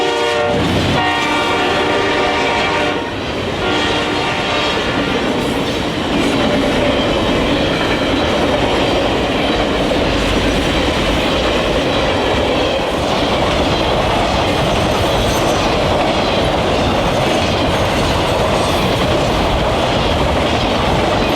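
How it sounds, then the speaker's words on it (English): An eastbound Triple Crown freight train rolls past loud and close, its horn blaring in long harmonic blasts at the start, then giving way to a steady roar and clatter of wheels on rail. "we saw eastbound Triple Crown Train"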